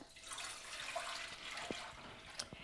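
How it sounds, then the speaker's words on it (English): Four cups of water poured into a cooking pot, a soft continuous splashing wash with a few small drips and clinks, faint and close, with no talk. "So you put your 4 cups of water"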